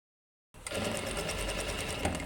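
A sewing machine stitches a pocket bag seam on a skirt, its needle running in a steady continuous whir after a half-second of silence, close and fairly quiet with no talk.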